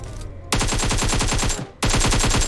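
Rapid automatic AK rifle fire in PUBG Mobile, two long sustained bursts of evenly spaced, loud, close shots separated by a brief pause.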